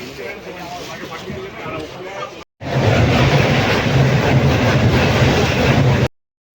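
An express train to Digha runs on rails with a loud, close, continuous rumble and rattle. A short break interrupts it, then the rolling noise returns stronger, with voices mixed in.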